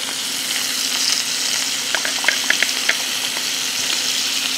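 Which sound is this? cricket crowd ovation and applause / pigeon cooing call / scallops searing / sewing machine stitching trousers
scallops searing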